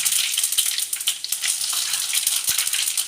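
Cumin seeds sizzle steadily in hot Dalda ghee, a close, continuous crackling fry with small pops throughout.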